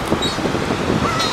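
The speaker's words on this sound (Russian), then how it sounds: "Чайки, вы что такие ленивые?" Gulls resting on a Florida beach give harsh, cawing calls amid steady outdoor wind and surf noise.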